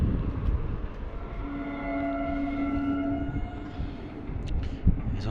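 A long freight train passes with continuous heavy rumbling, a sustained horn-like tone sounding through the middle, and a sharp knock near the end.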